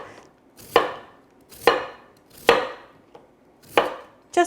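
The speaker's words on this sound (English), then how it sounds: "So we're going to cut these into big chunks," A knife cuts potatoes into big chunks on a cutting board, five sharp separate chops spaced about a second apart, close and clear with no talking.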